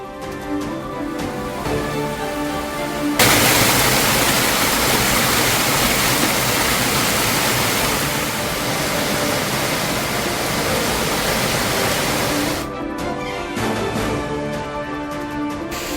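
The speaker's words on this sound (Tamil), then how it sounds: "திருத்தணியில் அருவி போல பெருக்கெடுத்த மழைநீர்." Heavy rainwater pours like a waterfall down the steps of the Murugan temple at Tiruttani, a loud, dense, continuous rushing roar that holds steady for about ten seconds over a softer background bed.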